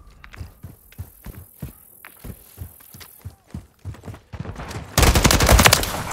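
Video game gunfire cracks out in a rapid series of sharp shots, then a dense burst of automatic fire erupts near the end, loud and close with no talking.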